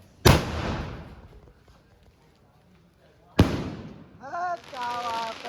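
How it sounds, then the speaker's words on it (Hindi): Two sharp booming bursts from a sky shot firework at an outdoor birthday party, each a loud close crack with a decaying tail, the second followed by people talking. "स्काई शॉट जला दिया भाई ने।"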